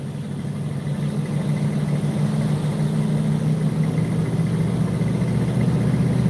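A car engine that may be overheating runs steadily while the car creeps along at about five miles an hour, a constant low drone with no break or change in pitch.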